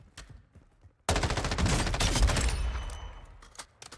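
A sustained burst of M13 assault-rifle fire in Call of Duty Warzone 2.0 erupts after a brief quiet stretch, loud and close, rattling continuously for around two seconds before tapering into scattered shots.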